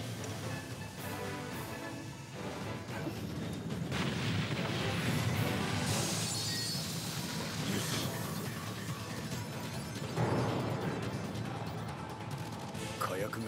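A dense, rumbling roar of explosions and crashing debris fills the clip, with a heavy blast surging near the middle and another near the end.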